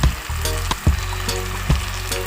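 Chicken adobo, seasoned with ketchup and oyster sauce, sizzles loudly in a pan while a utensil scrapes and stirs through it in several distinct strokes over a continuous frying hiss.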